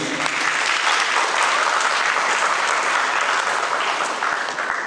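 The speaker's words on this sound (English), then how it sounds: "So should we just give a round of applause to them, please?" Dense, steady applause from an audience at a school panel and closing ceremony, continuous and full throughout with no talking over it.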